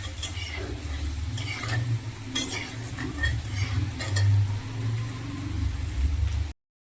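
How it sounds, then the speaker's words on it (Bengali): Potatoes fry in a home kitchen pan for a fish and ridge gourd curry, giving a steady close sizzle broken by scraping stirs and light utensil clinks, with no talking. "লাল লাল করে ভেজে নিচ্ছি"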